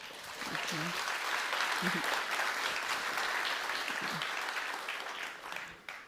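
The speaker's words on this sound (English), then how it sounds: "please give a warm round of applause to Frank and Lila joining us today." An audience at a design talk gives a warm, steady round of applause to welcome two speakers, the dense clapping sustained for several seconds with faint voices mixed in before it tapers off at the end.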